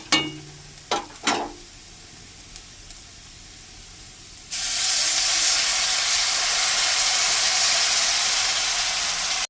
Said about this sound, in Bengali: এখন আমি পানিটা দিয়ে দেবো এর মধ্যে